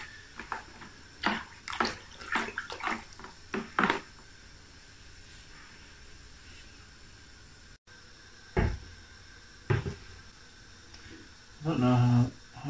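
Homebrew equipment being rinsed out, with water splashing and sloshing in short bursts between knocks and clatters of gear, plus a brief stretch of pouring near the end, close by and moderately loud.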